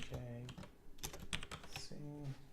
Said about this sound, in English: This is case sensitive, so I'll just type that in here.